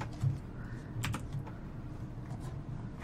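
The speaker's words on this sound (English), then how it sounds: "Press R on the keyboard" Scattered keystrokes tap on a computer keyboard during a computer game, a few quiet, isolated clicks over faint room noise.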